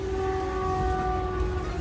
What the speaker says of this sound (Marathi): अंबरनाथ ट्रेनला बसलोय आम्ही.